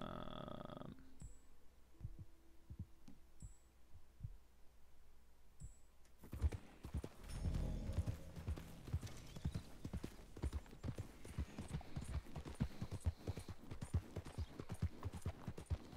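Quiet, sparse clopping at first, then rapid rhythmic hoofbeats of a galloping horse continue steadily at moderate volume.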